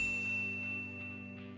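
A single bright notification bell ding ringing out near and clear, then sustaining and slowly fading over about a second and a half, alone with no talking.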